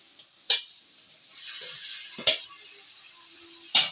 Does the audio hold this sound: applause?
no